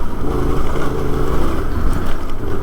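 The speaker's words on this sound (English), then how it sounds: "you can hear me over the sound of the engine" Vehicle engine droning steadily while driving a muddy road toward a lakeside campground, a loud continuous low rumble with slight fluctuations and no talk over it.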